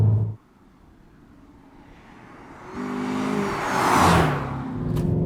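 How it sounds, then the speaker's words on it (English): Volkswagen Passat W8 passing by with a failing alternator, its engine note rising as it approaches and carrying a thin supercharger-like whine on top, loud and close near the pass before easing off. "when we were shooting the drive-bys, it produced an almost supercharger-like whine, which it's not meant to"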